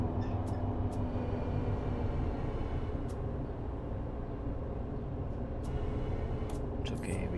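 Tram rolling through city streets in City Transport Simulator 2026, a steady rumbling rail drone with wheel and track noise held at an even level throughout, plus a few brief higher squeaks and clicks.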